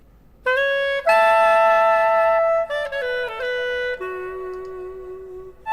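A solo clarinet plays sustained, steady notes with a few changes in pitch, clear and close with no other instruments.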